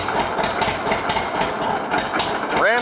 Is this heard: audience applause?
no